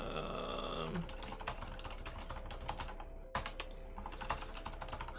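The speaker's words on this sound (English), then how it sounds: "I'm typing a password on keyboard cam." Password being typed on a computer keyboard, a close run of irregular key clicks and taps with a few heavier keystrokes, no talking over it.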